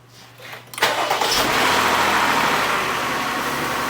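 Car engine cranking briefly and catching after a home repair, then settling into a loud, steady idle that runs on without talk.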